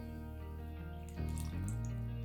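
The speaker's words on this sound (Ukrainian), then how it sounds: "Вливаємо рафіновану олію без запаху та молоко." Refined, odourless oil and milk are poured into cake batter for a jam pie in a short, steady liquid stream that grows slightly louder partway through. A low hum runs underneath.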